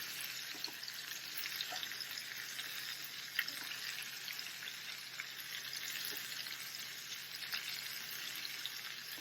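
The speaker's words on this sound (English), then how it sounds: "just go ahead and let those saute" Pork chops and peppers sautéing in a pan, a soft continuous close sizzle with faint crackles and occasional utensil taps, steady throughout.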